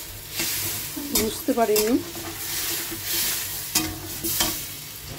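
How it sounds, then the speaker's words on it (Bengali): Egg curry is stir-fried in oil in a pan and sizzles steadily and close, with stirring scrapes on top. A brief spoken remark comes partway through. "এবার আমি এটা ভালো করে কষিয়ে নেব।"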